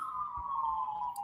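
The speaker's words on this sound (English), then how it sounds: "I'm hearing the sirens right now." Distant siren outside heard faintly as a single steady wailing tone that slowly drops in pitch over about a second, with low background rumble and no speech.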